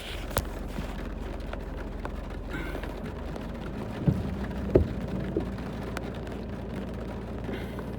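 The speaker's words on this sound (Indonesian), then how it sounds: "Cuacanya hujan." Rain falls with a soft, steady hiss, with a few sharper drops and crackles standing out midway and a low rumble underneath.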